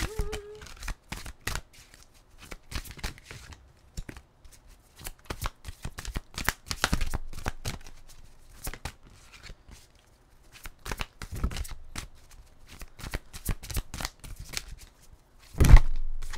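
A deck of oracle cards is shuffled for a reading in repeated bursts of crisp riffling and flicking, close and fairly loud, with short pauses between runs and a thump near the end.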